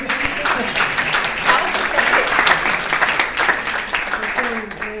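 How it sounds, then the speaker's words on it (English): Audience applause at an academic event on memory and historical analogies in world politics, continuous clapping throughout with voices speaking over it at the start and end. "We clap for that"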